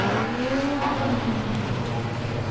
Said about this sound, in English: the car we just heard purring on the test track, the Cobra car